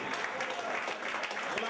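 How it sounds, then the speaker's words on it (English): A chapel congregation at a 2010 revival meeting claps in a dense, continuous patter of applause, with a voice speaking over the clapping. "Please sit down and clap for Jesus."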